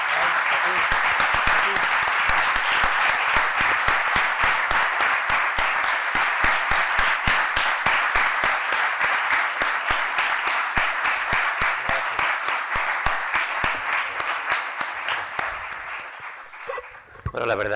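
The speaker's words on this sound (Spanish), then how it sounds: "pues yo os pediría un aplauso para los tres" An audience at a book presentation in Seville claps loudly and keeps going for well over fifteen seconds, the claps falling into a fast, steady rhythm before tapering off near the end.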